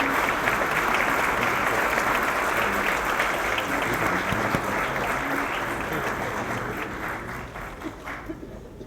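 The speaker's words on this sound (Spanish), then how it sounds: "despidámoslos con un fuerte aplauso, por favor" An audience at a formal commemorative event for International Personal Data Protection Day gives sustained, dense applause that fills the hall, then thins and fades toward the end.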